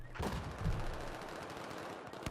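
Rapid automatic gunfire in Battlefield 4 beta multiplayer combat on a rooftop, dense sustained bursts with a heavier impact early on, fairly loud and continuous with no talk.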